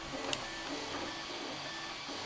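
A 3D printer running a long print build, making a steady, continuous mechanical whir and hum with faint stepper tones, heard alone and close throughout.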